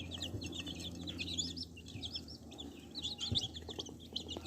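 Chickens cluck and chirp softly at a distance on a small farm with ducklings, with scattered overlapping calls against a quiet outdoor background.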